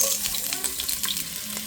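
Onion hits hot oil with whole peppercorns in a casserole pan, giving a steady, close, bright sizzle throughout.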